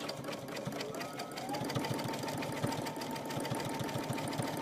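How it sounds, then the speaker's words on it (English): A Baby Lock Crescendo sewing machine runs a serpentine stitch at a steady pace, with a continuous close whirring and a fast, regular needle patter throughout. "So I'm doing a serpentine stitch"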